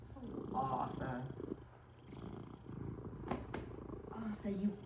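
A kitten purring close by, a soft continuous rumble with voices talking over it.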